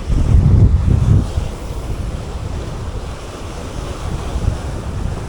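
Strong wind gusts buffet the microphone by the sea, loud rumbling bursts at the start easing into a constant roar mixed with surf washing in the background.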